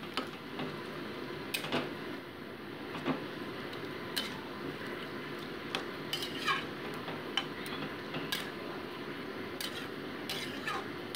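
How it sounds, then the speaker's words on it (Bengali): A spoon stirring vegetables with tempering spices in a pan, quiet scraping and light clinks repeating irregularly over a soft sizzle, fairly faint and without talk. "তো ভালো করে সবজিটাকে ফোড়নের সাথে আমি মিশিয়ে নিচ্ছি।"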